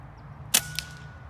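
A single sharp crack from an AEA HP Carbine .25 air rifle, followed a fraction of a second later by a fainter snap, against a quiet background.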